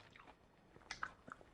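A crunchy onion ring dipped in ketchup is bitten and chewed close by, with a couple of soft crisp crunches and moist chewing sounds at low volume.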